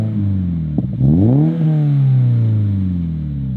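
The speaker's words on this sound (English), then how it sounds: "this really wasn't my favorite sounding exhaust I've heard. It was very bassy and a little bit boomy" A Subaru BRZ / Toyota GR86 fitted with an aftermarket catback exhaust blips once sharply, then revs up with a deep, bassy, boomy note that settles into a steady drone, close and loud.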